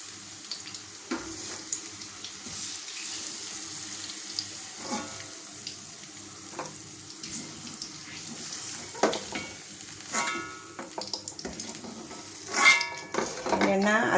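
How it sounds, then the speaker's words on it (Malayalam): Banana pieces frying in oil for pickle, a steady soft sizzle with occasional clinks and scrapes as the pieces are stirred and scooped out, close and moderately quiet throughout. "നമുക്കിത് എണ്ണയിൽ നിന്ന് കോരിയെടുക്കാം."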